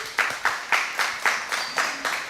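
Live audience claps in steady, evenly spaced bursts at a public radio broadcast inside the Boston Public Library, each clap sharp and fairly close, with no talking over it.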